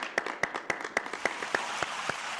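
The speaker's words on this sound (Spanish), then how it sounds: "Aplauso para él." Regular, evenly spaced claps of applause on a Zoom talk show, sounding like a few hands or a small studio group, fairly faint and thin, with no talking over them.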